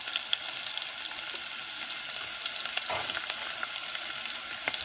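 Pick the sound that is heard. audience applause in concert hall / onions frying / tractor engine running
onions frying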